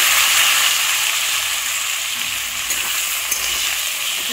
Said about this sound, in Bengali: দিয়ে আলুগুলোকে একটু ভেজে নিতে হবে।